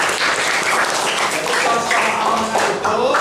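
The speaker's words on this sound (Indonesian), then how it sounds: "Tepuk tangan buat sahabat-sahabat kita." A room of classmates at a junior high school in Jakarta breaks into steady, dense applause, loud and close, with a voice speaking over the clapping.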